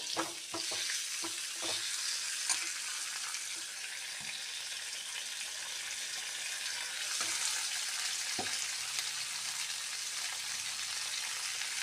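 Ingredients roasting in coconut oil in a pan produce a steady, close sizzle. Several quick scraping and knocking stir strokes sound early on, and more follow later.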